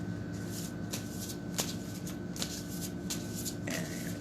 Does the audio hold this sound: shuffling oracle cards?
yes